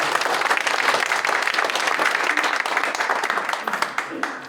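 A church congregation at an elders' association general assembly worship service gives a loud, dense round of encouraging applause that thins into a few scattered claps at the end.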